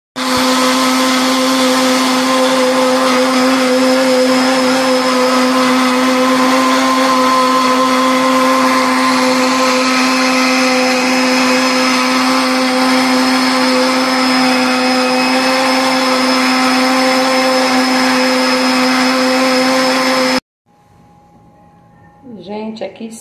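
A blender whirs steadily at full speed, beating the ingredients for a simple milk pudding (pudim), a loud continuous motor drone with strong hum, then it cuts off abruptly near the end, leaving faint quiet background sounds.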